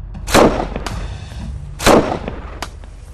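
Sniper rifle fire in a Chinese military drama about an ambush on tanks in a mountain valley: two loud, sharp shots about a second and a half apart, each with a booming tail, then a fainter third crack, with no talk.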